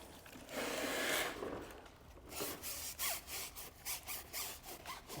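Close, brisk scrubbing of a brush on a car tire, first one long continuous rub, then a series of short rhythmic back-and-forth strokes, fairly quiet with no talking.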